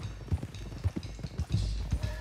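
Horse hooves clip-clop in Red Dead Redemption 2 during a horse-stealing mission, a steady run of close, moderately loud hoofbeats over low rumbling game ambience.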